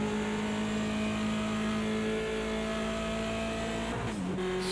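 BMW 2002 Turbo race car in Project CARS 2 at Bathurst, its turbocharged engine droning steadily and loud at high revs, then dropping sharply near the end as the driver brakes and shifts down.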